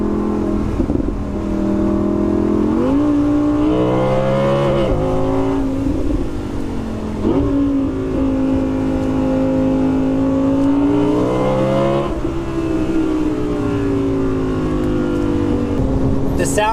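An Audi R8 V10 Performance engine roars loudly from close by as it accelerates through gear shifts, its pitch climbing and stepping back down. A voice is heard faintly under the engine.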